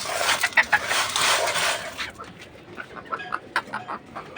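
A hen clucks in short, close bursts while being given feed alongside pigeons, with some light clinking in the background and quieter scattered sounds afterward.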